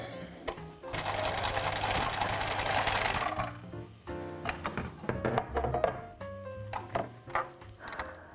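Sewing machine overlocking fabric on a first, jammed attempt: a short burst of fast, close stitching, then stuttering thumps, clicks and knocks as the mechanism catches.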